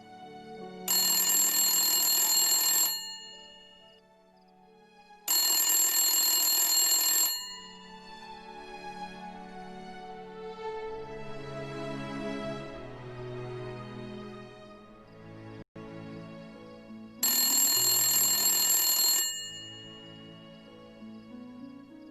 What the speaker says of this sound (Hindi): फोन कोई नहीं उठा रहा।